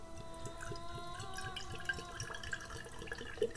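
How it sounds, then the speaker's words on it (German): A drink is poured into a glass, a faint trickle of liquid with small drips and splashes over quiet background tones. "Ich schenke mir mal kurz ein."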